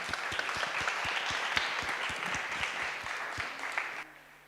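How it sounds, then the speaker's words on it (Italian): Audience applause for speakers at a transdisciplinary residencies conference, steady dense clapping in a hall, fairly close, with low thumps underneath, then thinning abruptly near the end. "A big applause."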